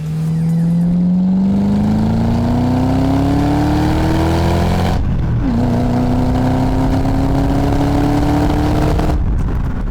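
Ford Mustang GT fitted with an axle-back exhaust revs hard twice, the pitch climbing steadily each time before dropping off, loud and close with no talking.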